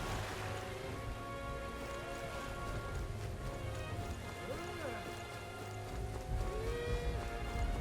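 Rain falls steadily in Metaphor: ReFantazio as a dense, constant hiss under game music, with a person briefly speaking.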